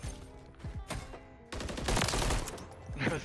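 Enemy gunfire in the video game Modern Warfare 3: a sparse shot early, then a dense burst of rapid firing and impacts, loud and close, with game effects around it.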